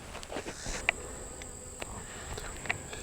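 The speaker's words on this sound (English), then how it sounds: "So yeah, right now we've just got bees right here." Honeybees buzzing softly on the frames of an open, struggling backyard beehive, a faint, steady insect hum with a few brief louder passes, and no voices.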